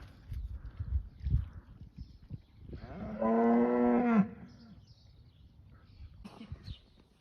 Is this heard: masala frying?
no